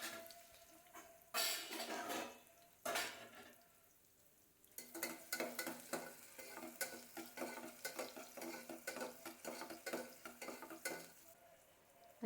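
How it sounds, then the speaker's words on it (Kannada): An onion sautés for tempering in a small pressure cooker, heard as quiet, rapid, rhythmic spoon scraping and stirring against the metal, with a soft sizzle underneath and a few pauses. "ಒಗ್ಗರಣೆಗೆ ಒಂದು ಸಣ್ಣ ಕುಕ್ಕರ್ನಲ್ಲಿ ಒಂದು ಸಣ್ಣ ಈರುಳ್ಳಿ ಹಾಕ್ಕೊಂಡು ಅದನ್ನು"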